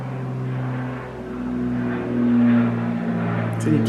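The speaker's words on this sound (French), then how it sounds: "Un avion." A small airplane drones overhead with a steady, low propeller hum that swells slightly and then eases, loud and continuous through the whole stretch.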